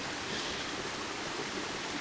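A mountain creek rushes steadily beside a hiking trail toward alpine lakes, a continuous close broadband wash of flowing water with no talk over it.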